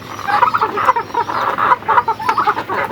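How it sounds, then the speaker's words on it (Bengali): Farm chickens clucking in repeated short bursts while they eat grass, close and fairly loud, with several birds overlapping. "আমার টাইগার মুরগি খাইতেছে আর ফার্মি মুরগিগুলো ঘাস খাইতেছে"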